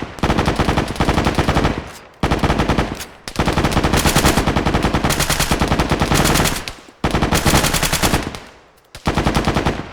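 Rapid automatic gunfire at a firearms training session, loud and close, comes in long sustained bursts broken by several short pauses.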